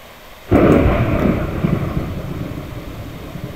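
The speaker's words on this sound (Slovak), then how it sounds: "máme búrku" A thunderstorm in a video game opens with a sudden loud thunderclap that rolls and rumbles down into a long, noisy, fading wash of sound.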